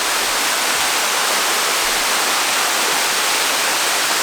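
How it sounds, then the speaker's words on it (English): A waterfall in the East Jaintia Hills, heard from behind the falling water, roars as a loud, steady broadband rush that fills the whole clip without pause. "I was thinking that I'll come and check the back side of the waterfall"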